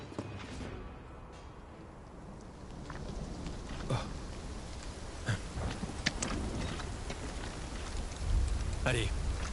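Steady rain hisses throughout at low volume in Final Fantasy VII Rebirth, with scattered louder drops and splashes; a low rumble swells near the end. No one speaks.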